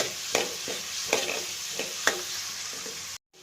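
Ginger and garlic fry in hot oil for a Kerala-style rambutan pickle, giving a soft steady sizzle broken by a few light stirring knocks before an abrupt cutoff.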